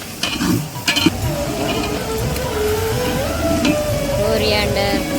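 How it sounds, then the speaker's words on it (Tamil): A pan of food frying, with a continuous loud sizzle and a few clattering utensil knocks early on, sounding close and unbroken throughout. "நல்லா ஃப்ரை ஆகுது, நல்லா ஃப்ரை பண்ணிக்கணும்"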